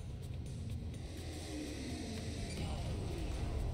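A car engine rumbles and revs steadily as a vehicle drives out of a door in the video game Huntdown, loud and continuous with rising intensity toward the end.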